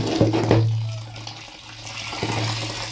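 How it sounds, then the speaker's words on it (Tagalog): Water runs from a tap into organic turkey feed being mixed, a steady splashing flow with a few sharper gurgles and knocks, close and fairly loud. "lagyan natin ng tubig"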